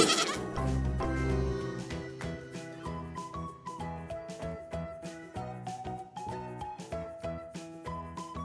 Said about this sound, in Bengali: পথে ছাগল ছানা ছাগল ছানা লাফিয়ে চলে